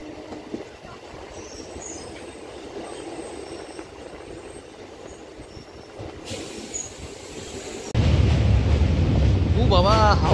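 A passenger train runs straight through Hooghly Ghat station without stopping, heading for Bandel, heard from on board as a steady rumble of wheels and rattling carriages with faint squeals, then a louder, heavier roar near the end.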